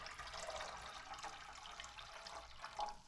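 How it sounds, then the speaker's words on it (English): Fresh water and white vinegar pour steadily into a Keurig coffee maker's reservoir, a continuous trickling splash at moderate level with no talk. "add a 50-50 mixture of fresh water and white vinegar"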